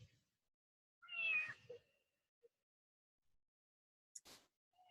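A cat close by gives one clear, rising meow, followed by a few soft clicks and a brief rustle in an otherwise quiet room.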